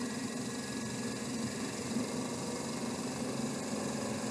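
A series electric motor spins at 1335 RPM under load, producing a steady, close, continuous hum and whir without any change.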